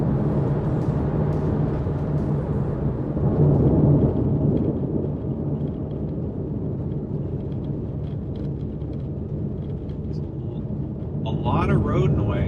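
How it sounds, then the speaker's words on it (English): Steady low road rumble fills the cabin of a moving Porsche 911 of the 991 generation, a continuous broadband roar with slight swells and faint higher noises near the end. "A lot of road noise"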